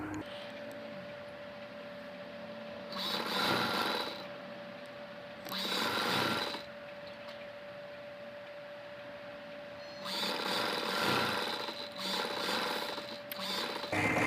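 A sewing machine stitches a baby frock in three bursts of rapid mechanical whirring and clatter, separated by pauses in which only a steady quiet hum remains.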